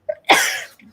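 A single sharp human sneeze during a live psychic reading broadcast: a small breath catch, then one loud, forceful burst that tails off over about half a second, with no talking.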